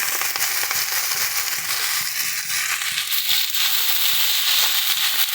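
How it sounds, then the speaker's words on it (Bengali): Khar kol leaves frying in a small amount of hot oil, giving a loud, steady, dense crackling sizzle that runs unbroken throughout with no voices. "পাতাটাকে একটু ভালো করে আমরা ভেজে নেব"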